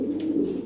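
A pigeon coos once in a low, steady, throaty hum at a pigeon market, close and fairly soft, with no talk over it.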